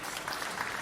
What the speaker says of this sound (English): audience applauds